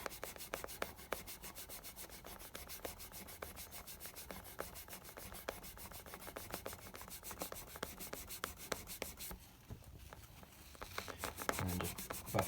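Guitar frets are polished by hand with a quick, steady back-and-forth rubbing, a fine scratchy swish repeating rapidly and quietly for several seconds, briefly pausing before resuming.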